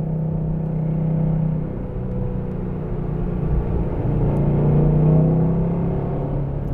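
A 2014 Shelby GT500 engine under throttle gives a steady, loud, deep exhaust rumble that swells and rises slightly in pitch as it revs, continuous throughout and heard close with no talk.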